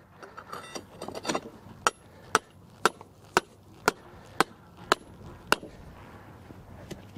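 Sharp metallic hammer strikes on rebar being driven into the ground, at an even, steady pace, about eight blows in a row, fairly close and with a ringing edge.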